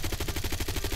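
Automatic gunfire in Call of Duty: Warzone: loud, rapid shots in a steady, driving rhythm that runs for the whole second with no pauses and no talking.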